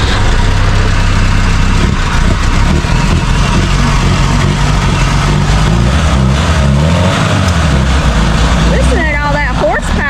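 Engine of a 1975 Chevrolet Vega running steadily and loud throughout, a low rumbling drone with people talking over it.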